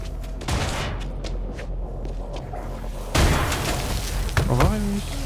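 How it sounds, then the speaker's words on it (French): An explosion in the video game Dead Island 2: a sudden loud booming burst cuts through busy game noise of scattered shots and impacts, with a voice speaking over the aftermath. "Merde, il a explosé."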